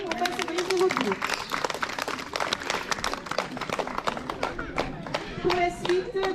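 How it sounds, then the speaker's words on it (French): An audience claps at the Rocher des Aigles bird-of-prey show in Rocamadour, France, with a burst of close, uneven hand claps throughout while a presenter speaks over the applause. "Vous pouvez applaudir gros bout, on passe à les vautours."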